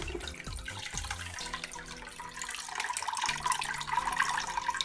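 Bio bowls from an aquarium external filter are rinsed under a running tap, a steady splash and trickle of water with clinks of ceramic pieces, close and moderately quiet, with no talking.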